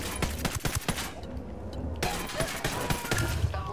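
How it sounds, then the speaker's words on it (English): Rapid gunfire bursts from enemies in the video game Ghost Recon Wildlands, a crackling, dense fusillade of shots with a brief lull midway. Voices can be heard faintly underneath. "bajo el fuego de armas enemigas y no sabemos cuántos son"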